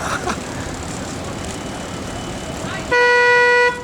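A car horn honks one sustained, steady blast near the end, following a stretch of road and outdoor noise with people talking nearby.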